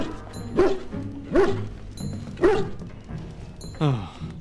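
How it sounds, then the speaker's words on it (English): A puppy in the Dragon Age: Origins video game barks excitedly three times in a quick rhythm, followed by a short yelp, close and clear over faint game background. "Excited barking."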